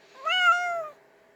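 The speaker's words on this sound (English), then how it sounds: "Everyone say hi to our fat cat." A fat cat gives a single drawn-out meow, close and clear, rising slightly then trailing off, with quiet room tone afterward and no talking.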